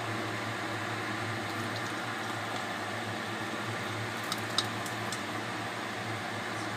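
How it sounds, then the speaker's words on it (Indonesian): Water comes to a boil in a large wok, a steady, close bubbling and hiss with a constant low hum underneath and a few faint clinks near the end; no one speaks. "Langkah selanjutnya kita didihkan air di kuali yang besar sampai mendidih"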